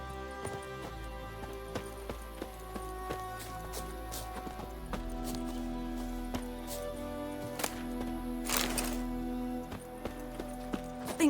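Roach, the horse in The Witcher 3 video game, trots with a steady clip-clop of hooves over a low ambient game soundscape, with a brief rushing swell near the end.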